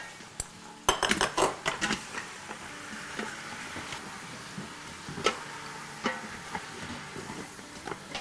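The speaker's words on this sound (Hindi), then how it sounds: "तो अब ये जो है हमने सॉटे मोड ऑन किया हुआ था, ये गर्म था ही, तो अब हम इसमें गोश्त डाल देते हैं।" Raw meat going into a hot Instant Pot-style pot on sauté mode for Eid biryani, with metal pot and utensil clatter, scrapes and clicks in quick bursts early on, then scattered lighter knocks.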